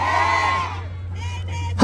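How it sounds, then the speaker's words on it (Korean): A concert audience shouts and cheers loudly in a sustained roar that slowly fades, with a short burst of noise at the end. "공연의 시작을 알리는 함성 소리 한번 들어보도록 하겠습니다"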